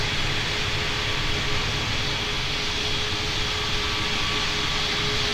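An Emirates airliner going around in a Roblox flight simulator game: a steady, loud jet-engine roar that holds evenly throughout, with no voices.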